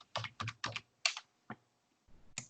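Quick bursts of keystrokes on a computer keyboard, close and crisp, with a few short clusters of clicks separated by brief pauses and no talking.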